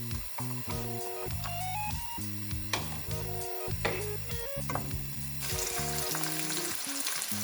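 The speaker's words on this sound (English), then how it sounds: "here I have some small amount of oil in my saucepan. So I'm coming to add my onions." Onions sizzle in a small amount of hot oil in a saucepan, a soft, continuous crackle and hiss that runs throughout under prominent stepped musical tones.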